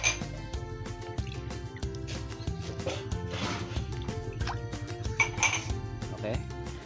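Rice washing water is stirred for fermentation, with light clinks and liquid swishes from a container close by, mixed with a steady tonal hum and faint talk in the background.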